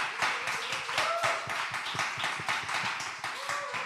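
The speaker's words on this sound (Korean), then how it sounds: "이런 분들에게 우리 박수 한번 좀 다 쳐주시면 좋겠어요." A small audience at a diaspora dialogue session claps together, scattered individual hand claps at a brisk, uneven rhythm that sound fairly close, with a faint voice or two murmuring underneath.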